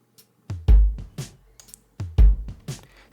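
Dry acoustic drum pattern with toms and snare, no distortion or compression, playing two short repeated phrases of sharp separate hits with quiet gaps between them.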